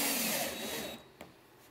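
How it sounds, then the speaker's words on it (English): A power driver sets small screws into the bearing ledges of a homemade wooden router lift, giving a loud steady whir that cuts off after about a second, followed by a faint click. "Each of those bearings is held onto the ledges with some small screws that I'm putting in here."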